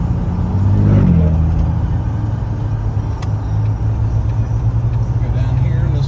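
A low-mileage four-door 2000 Jeep Wrangler Sahara cruises at about 50 on a road, heard from inside as a steady low engine and road rumble with a voice talking over it.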